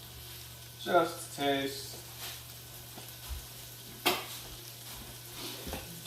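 Broccoli coated in butter and garlic sizzling softly in a pan, a faint steady fry under brief utensil clinks and scrapes, with a person speaking a few words over it.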